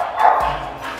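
An agitated female dog barks once in a short, sharp burst indoors, close and fairly loud, with a brief yip.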